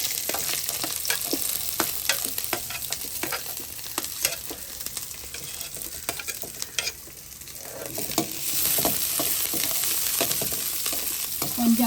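Garlic, onion and green chilli fry in oil for chicken fried rice. A continuous close sizzle runs under frequent scraping stir strokes from a spatula, with no talking.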